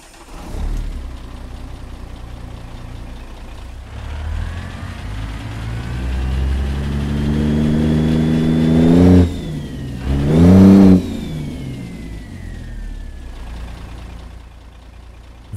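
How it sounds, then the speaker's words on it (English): A Cummins signature truck engine in American Truck Simulator cranks, starts and settles into a deep idle, then revs up twice in a row with rising whine and loud peaks before dropping back to idle. No voices are heard. "going to be checking out one of Z-Mod's new Cummins signature engines, and I'm going to fire it up so you can listen to it here now"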